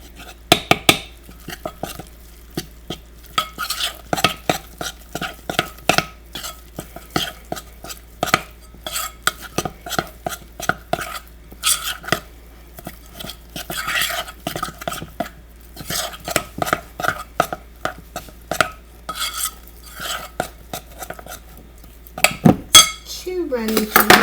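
Homemade no-cook play dough being mixed in a bowl, with repeated clinks and scrapes of a utensil against the bowl in irregular bursts, some brief pauses between strokes.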